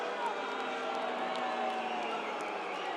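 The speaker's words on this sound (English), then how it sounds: "I love the home crowd getting vocal" Home crowd at a women's football game in Australia, a distant, steady roar of cheering and whooping from the stands with faint scattered claps, no single voice standing out.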